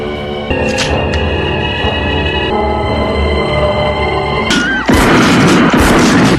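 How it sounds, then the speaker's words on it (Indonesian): Shotgun blasts fire in a film scene, heavy booming bursts over a dense score and layered effects, with a sharp loud crash near the end. "datang Kyle tepat waktu yang menembak Jacob beberapa kali menggunakan shotgun hingga terjatuh."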